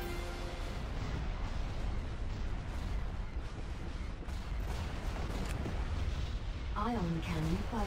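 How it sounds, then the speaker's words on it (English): Ion cannon fire in the Star Wars Empire at War space battle game, with dense booming blasts and explosions layered over a steady battle roar, and a rising warbling tone near the end. "Ion cannon firing."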